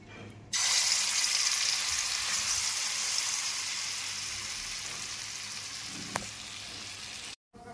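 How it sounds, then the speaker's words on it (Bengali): Marinated food poured into hot oil in a wok erupts into a loud, close sizzle that holds steady and slowly eases off, with a brief clink near the end before a sudden cut. "এটা আমি কড়াইয়ের মধ্যে ঢেলে দেবো এবার গরম তেলে"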